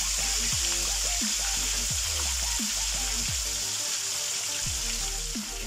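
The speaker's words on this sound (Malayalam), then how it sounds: "മണവാളിനെ എടുത്ത് നമ്മൾ ഓയിലിലേക്ക് ഇടാം" Spiced manavalan chicken pieces sizzle loudly in boiling hot oil with a dense, continuous crackle, while recurring low swooping tones sit under the frying.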